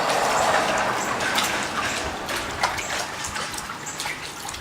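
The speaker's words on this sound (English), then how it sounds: "We're going to take and rinse this thing out." Water gushes and splashes steadily over a gold sluice carpet being rinsed out outdoors, a continuous loud pouring and sloshing close by with no pauses.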